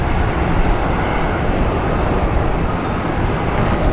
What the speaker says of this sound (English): Nice crosswind landing there on runway 34 right by the Fiji Airways